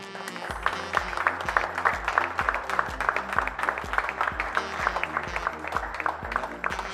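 Crowd applauding at a youth table tennis championship award ceremony, a steady round of clapping with a rhythmic pulse throughout, moderately distant, with little talk over it.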